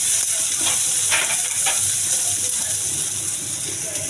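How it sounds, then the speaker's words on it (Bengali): Chopped onion and garlic sizzle steadily in a hot pan, with a few soft scraping stirs of a spoon cutting through the constant frying hiss. "তো এখানে আমি পেঁয়াজ কুচি আর রসুনের কুচি দিয়ে দিচ্ছি। একটু নাড়াচাড়া করে হালকা ভেজে নিব।"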